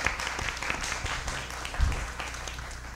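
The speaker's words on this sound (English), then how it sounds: "Let's please give him a round of applause." An audience at a sustainability business forum applauds continuously, a thick wash of clapping that stays even and fades slightly toward the end.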